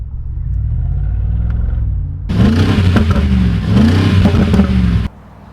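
A 2025 Mercedes-AMG G63 with its V8 idles in a low, steady rumble, then roars into two hard, loud revs with rising and falling pitch before cutting back to a quiet idle.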